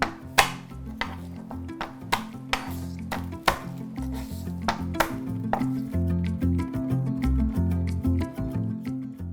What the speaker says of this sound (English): I'm just gonna use the flat side of my chef knife to smash them one by one, and then the peel kind of comes right off